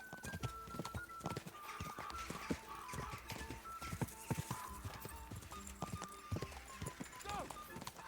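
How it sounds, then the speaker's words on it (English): A horse in Kingdom Come: Deliverance II gallops with fast, rhythmic hoofbeats up close, with occasional snorts, while a person talks over it. "Vamos, cavalo."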